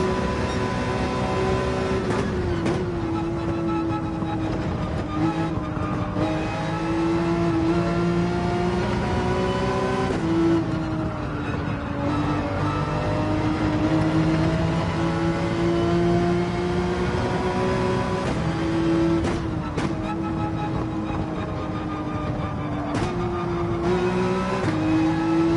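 Race car engines in Gran Turismo 7 drone steadily throughout, with tones that rise and fall through repeated gear shifts and occasional sharp clicks, continuous and without talk.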